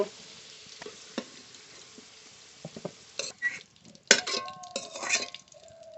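Potatoes frying in oil with a soft background sizzle, broken by scattered clinks of a spatula against the pan that grow busier and louder toward the end.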